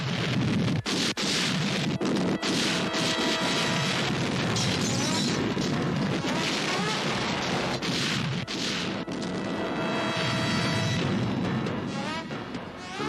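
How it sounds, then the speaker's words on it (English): A sustained atomic explosion sound effect for a nuclear blast on the moon, a dense roaring rumble with repeated booming crashes that stays loud and full throughout, with no talk over it. "The resulting chain reaction caused an immense atomic explosion, blasting the moon out of Earth orbit."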